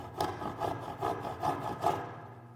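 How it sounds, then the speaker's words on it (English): A hand saw cuts wood held in a jig with about five even back-and-forth strokes in a steady rhythm, close and clear, with no talking. "We need to start sawing very, very carefully."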